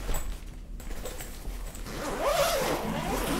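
Fabric gig bag for a Donner DAG-1C acoustic guitar being unzipped along its side, a steady ripping zipper run rising in pitch near the end, close and clear with no talk.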